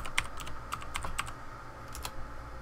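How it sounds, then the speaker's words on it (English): A username being entered on a computer keyboard comes through as a quick, uneven run of soft key clicks, close and fairly quiet, with no voices. "this is where you will type in your username"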